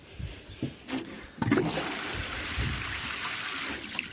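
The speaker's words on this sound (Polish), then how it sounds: "Dajemy sobie wodę." Water is poured into a container to mix disinfectant for a rabbit cage, starting with a few splashes and then settling into a steady rushing stream, close by with no talk.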